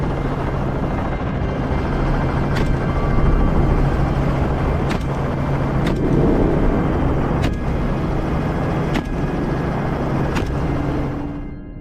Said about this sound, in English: Helicopters equipped with high-powered rifles fly over fields, taking down hogs from over 200 yards away.